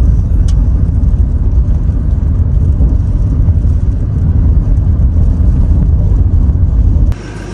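A car's interior carries a loud, steady road rumble and engine drone while driving, with one sharp tick early on before the noise drops abruptly near the end.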